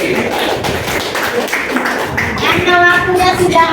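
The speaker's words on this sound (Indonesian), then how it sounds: "Tepuk tangan." Schoolchildren in a classroom clap together in a short, dense burst of applause lasting a few seconds, loud and close, with a few voices mixed in.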